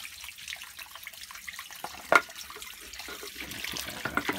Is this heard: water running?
yes